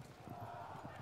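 Cavalry hooves from javelin horsemen clattering in the strategy game Field of Glory 2, a dense, steady rumble of clip-clop beats across the whole second under a faint game backdrop.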